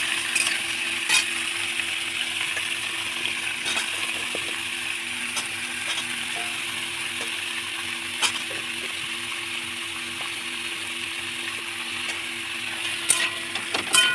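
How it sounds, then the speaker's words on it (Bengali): Vegetables frying in a pan for a greens and hilsa-head dish, a steady soft sizzle with occasional clinks and scrapes of stirring throughout, no voices. "সবজিগুলো দিয়ে দিচ্ছি, একটু নাড়িয়ে নেবো, দিচ্ছি আর নাড়িয়ে নিচ্ছি।"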